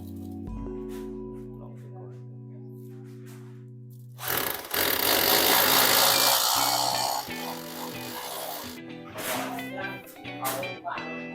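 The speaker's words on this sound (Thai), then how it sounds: "ด้วยโฮนซอนะครับขั้นตอนต่อไป" Tonal hum gives way to a loud, rough grinding hole saw drill biting through material for a few seconds, then slowing with intermittent bursts, during an air conditioner installation.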